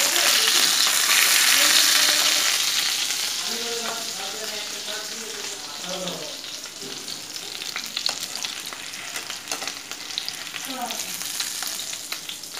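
Pomfret fish frying in hot oil in a wok, a steady loud sizzle that eases after the first couple of seconds, with soft clinks and stirring scrapes throughout and no talking.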